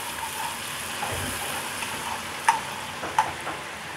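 Tomatoes frying in a pan with a little vinegar, giving a steady soft sizzle with a couple of sharp utensil clicks near the end.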